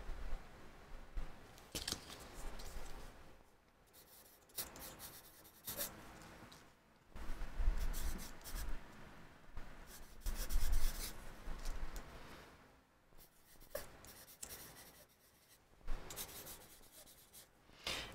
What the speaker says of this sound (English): So I'm going to write the same thing on both sides of the wings